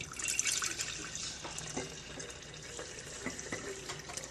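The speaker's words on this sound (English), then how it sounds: "we're going to take our kombucha and we're going to pour it in our jar" Kombucha is poured into a quart-sized jar as a close, continuous splashing trickle of liquid with small gurgles and drips, and no one talks.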